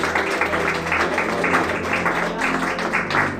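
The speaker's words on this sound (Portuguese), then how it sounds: "Louve ao Senhor com as palmas" A church congregation claps along during worship, the steady rhythmic clapping continuous and fairly loud over music and a sustained low tone, with a faint voice mixed in.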